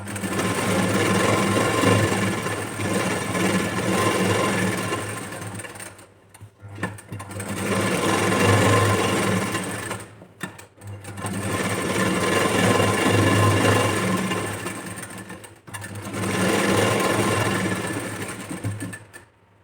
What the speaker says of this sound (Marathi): तर आता आपल्याला स्टिच करायचं आहे फ्रंट पार्ट.